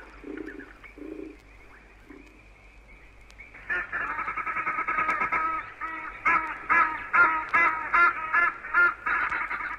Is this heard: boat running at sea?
no